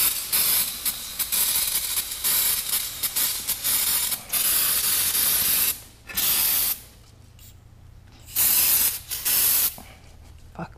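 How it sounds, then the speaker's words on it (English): Brake cleaner sprayed from an aerosol can while working on a Porsche 944 LS swap, several loud hissing bursts of varying length, close by, separated by short quieter gaps. "brake cleaner"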